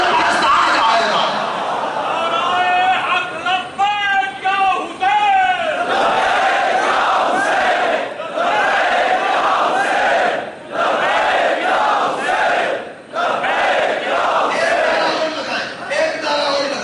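A large crowd at a Muharram religious gathering chants slogans together in loud, repeated collective shouts over several seconds, alternating with a sermon speaker's voice.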